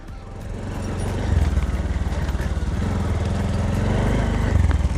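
Motorcycle ridden on a rough, rain-soaked dirt track in Dhading, Nepal; the engine hums loud and near throughout, building slightly at the start and pulsing with minor shifts in revs, no one speaking.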